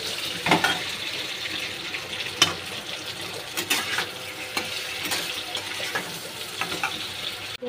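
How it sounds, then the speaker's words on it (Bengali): Chunks of green mango fry and get stirred in oil for a sweet spiced pickle. A continuous crackling sizzle runs throughout, with scattered sharp scrapes and clinks of the spoon against the pan and no voices. "এবার আমি আমটা দেব। ভালো করে ভেজে নেব।"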